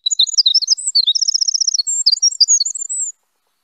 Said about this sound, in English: That's the winter wren's beautiful song